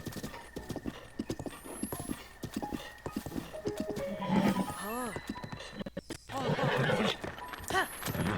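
A horse in Zelda: Breath of the Wild whinnies loudly several times over clopping hooves, with rising and falling neighs and a brief pause before the calls resume.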